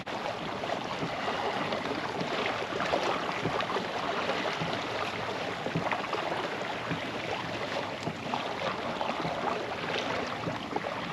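Hobie Outback pedal drive kayak moving across shallow water near a sandbar, with a steady rushing wash of water and wind noise that stays constant throughout and no voices.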